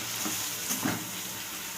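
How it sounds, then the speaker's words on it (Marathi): Stuffed brinjal sautés in oil with a soft continuous sizzle and a brief scrape of a spoon partway through, no voices. "हे सगळं परतून घ्यायचं तेलावर"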